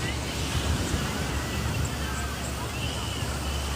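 Waves wash onto a Florida beach beside a pier, a soft, steady surf roar mixed with wind rumble on the microphone and faint distant crowd chatter.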